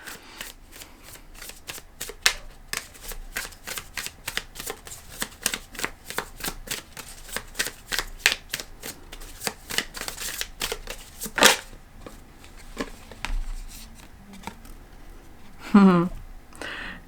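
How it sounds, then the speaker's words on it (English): An animal oracle card deck is shuffled again and again, with quick riffling bursts and soft card flicks close up, pausing now and then. "I'm going to pull one card from this animal deck."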